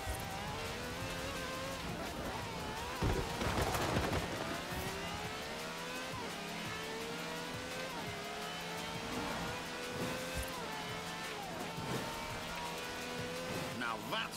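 A V12 racing car with over 750 horsepower in a driving game, its engine droning steadily with shifting pitch as it accelerates, a brief louder rev partway through and a voice talking over it.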